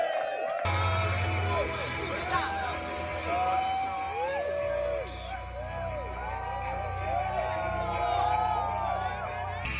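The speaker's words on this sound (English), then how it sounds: "big round of applause for that" A lively crowd cheers, whoops and yells throughout, with voices overlapping and a few people talking amid the noise.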